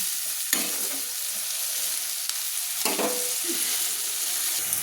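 Onions fry in a pan and are stirred, a constant hiss with a few scraping strokes of the spoon, close and with no speech.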